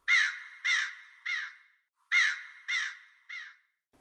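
A raven gives harsh, loud caws in two groups of three, each call slightly shorter and fainter than the one before, with a brief pause between groups, used as a sound effect in a Noah's ark story.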